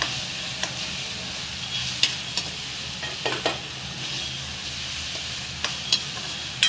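Onion and ground spice paste frying in a pan over low heat, a steady close sizzle and hiss with occasional stirring scrapes and clinks, no talk.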